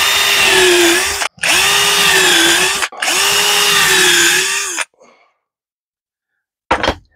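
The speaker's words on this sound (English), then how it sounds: "I bring the drill up to full speed before I plunge it down." A power drill bores holes in wood for a cribbage board, running at full speed in three loud, steady bursts separated by short gaps, then falling silent before a brief final noise.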